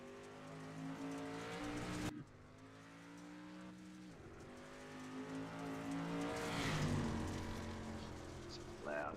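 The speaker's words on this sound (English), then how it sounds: "The racing comes from my speakers, so sometimes it comes through the microphone" iRacing race cars play through speakers and are picked up by a microphone: engines whine and rev with rising and falling pitch, cutting off and resuming, faint and roomy under occasional talk.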